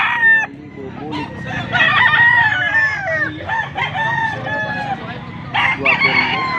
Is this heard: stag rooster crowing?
yes